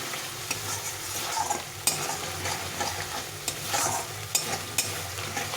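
Thick spice paste sautéing in oil, stirred with a utensil that scrapes the pan now and then, under a steady close sizzle with occasional sharper spatula knocks.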